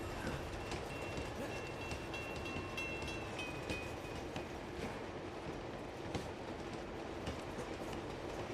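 A train in the video game Uncharted 2 rumbles along with a continuous rolling, rattling drone and faint metallic squeals, loud and steady with no voices.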